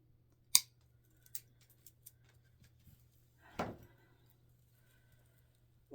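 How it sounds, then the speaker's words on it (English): Scissors snip ribbon while a DIY wreath hanger is trimmed, giving one sharp nearby cut, a few lighter clicks, then a second longer snip, with no talk over a quiet room hum. "So all I need to do now is trim"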